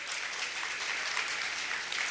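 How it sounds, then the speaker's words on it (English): Audience at a talk applauding steadily, a dense, even wash of many hands clapping throughout with no pauses. "Okay, we can clap."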